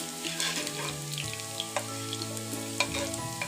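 Onions sizzle in hot oil for a mustard greens (sarson ka saag) tadka, a steady close crackle with brief louder pops and stirring, heard alone without talk.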